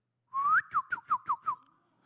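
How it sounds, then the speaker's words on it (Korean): A person whistles at a pond to call a school of carp: one long rising whistle, then five short chirping notes in quick succession, clear and close with no talking. "휘파람을 불었어요."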